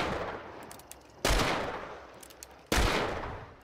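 A single action revolver is hip-fired in the video game Hunt: Showdown: two loud, echoing gunshots about a second and a half apart, each followed by a ringing tail.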